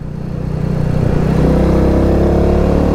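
A Royal Enfield Meteor 350 motorcycle accelerating hard out of a corner in third gear, its engine note rising steadily and loudly from a low rumble into a sustained, close, strong drone.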